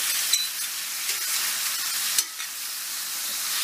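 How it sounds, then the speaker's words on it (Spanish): Chicken frying in a pan for stuffed chipotle chiles, a steady bright sizzle with occasional pops and light stirring, close and continuous with no talking. "Lo primero que vamos a hacer es agregar el pollo y vamos a empezar a freír"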